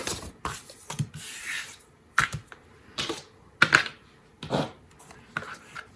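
A Stamparatus stamping tool presses rubber stamps onto white card stock, making a series of close, sharp taps and thuds at an irregular pace, with quiet handling noises between them.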